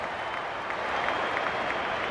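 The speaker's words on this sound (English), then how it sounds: "That try sends the home crowd crazy." Home crowd cheering after a try in the Rugby League 26 video game, a steady, dense roar of applause and crowd noise filling the whole stretch at an even level.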